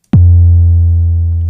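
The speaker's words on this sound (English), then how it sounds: "The kick drum with full decay." A single deep kick drum thump from an Arturia DrumBrute Impact analog drum machine, set to full decay, with a sharp attack and a long, booming tail that sustains steadily with only a slight fade.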